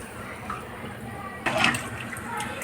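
Water from a glass is poured into a cooking pot for masala pongal, a short splashing gush that starts after a quiet kitchen moment and trickles on softly, close by.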